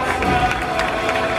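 Crowd at a baptism party applauding steadily, a dense, even wash of clapping held at constant loudness throughout, with faint voices mixed in.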